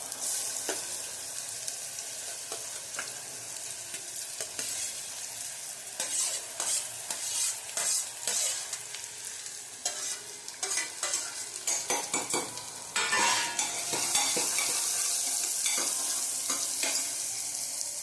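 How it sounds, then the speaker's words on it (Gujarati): Bottle gourd is tempered with asafoetida in hot oil and stirred in a pan, giving a steady close sizzle with repeated scraping and stirring strokes that grow louder and denser toward the end. "હવે આપણે દૂધીને વઘારી નાખીશું"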